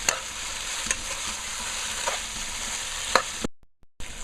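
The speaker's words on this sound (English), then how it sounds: "So I want this here to marinate a little and fry down a little." Potatoes and beef fry in a pot for stew with a steady sizzle, punctuated by occasional scraping stir clicks, then a brief dropout just before the end.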